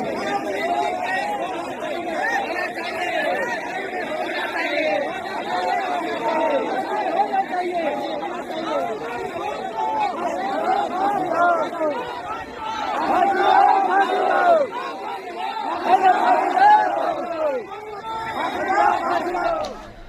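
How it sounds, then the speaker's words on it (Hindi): A large crowd gathers in Hazaribagh, shouting slogans and demanding justice for a murdered 17-year-old boy. A dense, continuous babble of many voices builds into louder, surging bursts toward the end. "ये भीड़ जो आप देख रहे हैं, जो नारेबाजी कर रही है, जो इंसाफ की मांग कर रही है"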